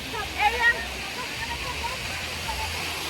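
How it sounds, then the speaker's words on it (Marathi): Constant rushing roar of a waterfall at Mahabaleshwar, a broad wash of falling water, with a brief voice rising over it near the start. "तर हे बघा इथं धबधबा पडतोय"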